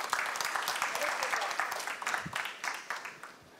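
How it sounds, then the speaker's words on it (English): An audience gives a round of applause during a talk on self-care and burnout, a fairly quiet, steady patter of many hands clapping for a few seconds, with a voice faintly present. "Let's just give her a round of applause."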